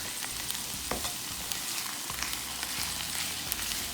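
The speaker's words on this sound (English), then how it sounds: "Some leftover fresh spinach, yellow pepper, red pepper, and some onions. Gonna saute this up." Fresh spinach, yellow and red peppers and onions sautéing in a pan, an even, hissing sizzle with occasional light taps and scrapes of a utensil, close and fairly quiet.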